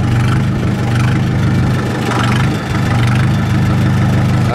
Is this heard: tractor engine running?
yes